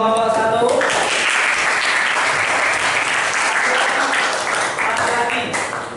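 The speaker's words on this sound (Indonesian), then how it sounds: "Beri aplaus untuk kelompok 1." Classroom applause for a group of students, a dense burst of clapping that swells quickly, holds steady, then tapers off, with voices talking at the start and end.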